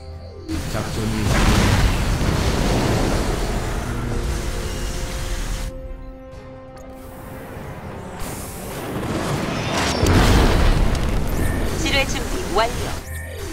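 Heavy strike explosions in a StarCraft II co-op mission, two swelling booming blasts with rumbling tails several seconds apart, under game voice lines and someone talking.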